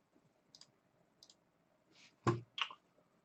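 Sharp mouse clicks on a computer while setting up a game trial, a couple of faint light ticks followed by two louder crisp clicks near the end, close and alone.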